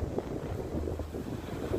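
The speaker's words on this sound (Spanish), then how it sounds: "Sentí como las olas de este mar" Sea waves wash in a soft, continuous rolling surge with gentle pulses, blended with low wind rumble and no voices present.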